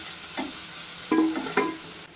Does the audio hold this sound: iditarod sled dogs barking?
no